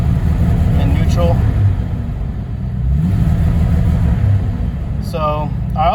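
A Renix-era Jeep engine revs in neutral, rumbling steadily with mild swells that won't climb past 2,000 RPM, low and close, with a brief higher-pitched sound near the end.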